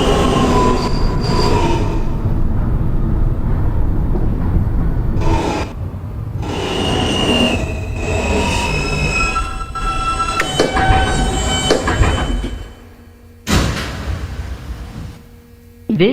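A New York City subway R160 N train on the R line runs loudly and steadily, its rumbling roar laced with high, sustained wheel squeals. It dips briefly, then drops toward quiet near the end with a few scattered surges.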